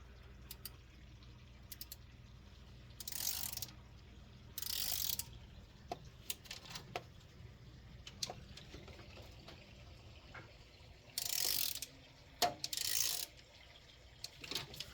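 A hand ratchet clicks in short bursts while turning the valve rocker arm nuts on a 383 engine in a third-generation Camaro, with quiet gaps and faint shop noise between the pulls.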